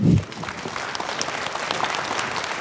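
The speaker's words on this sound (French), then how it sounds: "Je crois qu'on peut encore les applaudir." An audience claps steadily for three conference speakers, a dense patter of many hands at moderate distance, after a brief low voice at the very start.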